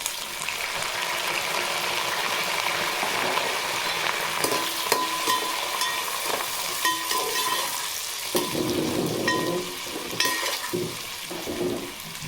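Onions and green chillies fry in a hot pan with a steady, loud sizzle, broken by scraping stir strokes and a few clatters of a spoon against the pan; no one speaks.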